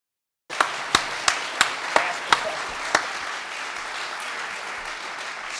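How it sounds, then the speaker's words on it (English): An audience at a lecture breaks into applause, starting with a few sharp individual claps and quickly settling into a steady, moderate round of clapping in a hall. "So, for a brief round of applause."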